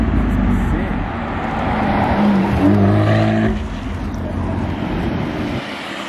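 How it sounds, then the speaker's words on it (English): A Lamborghini Aventador V12 passes nearby, a loud engine roar that swells and rises in pitch mid-clip before fading, heard from a following car with wind noise. "Just listen to the Aventador."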